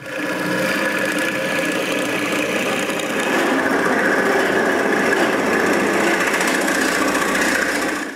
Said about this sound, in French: Ensuite, je perce le plus que je peux.